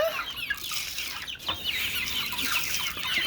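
Chickens cluck busily and close by in a barn on a windy day, a steady chatter of overlapping clucks and squawks with no pauses.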